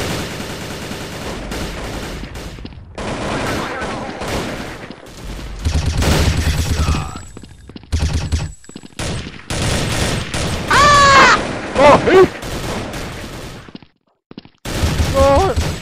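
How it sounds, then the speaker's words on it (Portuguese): Loud, close gunshots and machine-gun bursts from the browser shooter Bloodstrike, firing in choppy volleys separated by abrupt silences, with chirpy game effects mixed in partway through. "Nossa, os tiros são muito altos,"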